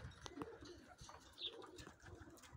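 Pigeons coo softly around a loft, the quiet low calls mixed with faint chirps, light thumps and shuffling in the background.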